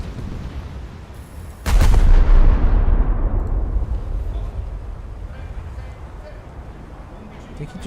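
Ship guns firing in a naval combat video game: a sharp, loud blast followed by a long rumbling decay that fades under a continuous low background.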